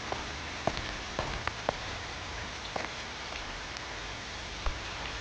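Steady rain falling in the Sakura School Simulator video game, a continuous soft hiss with scattered sharp drip-like taps and no talking.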